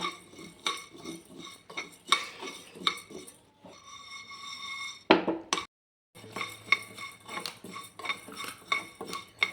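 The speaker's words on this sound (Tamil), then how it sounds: "நல்லா செவராக வறுக்கணுங்க." Urad dal is dry-roasted in a pan for sweet seedai, a metal spoon scraping and clinking against the pan in quick uneven strokes, close by, with a brief gap of silence midway.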